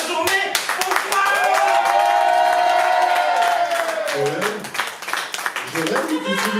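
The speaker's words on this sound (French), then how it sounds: "je veux vraiment que vous applaudissiez très fort" An audience at the opening of a France–Quebec slam poetry evening claps and cheers steadily for several seconds, with whoops and tonal voices rising over the crowd before the applause thins out.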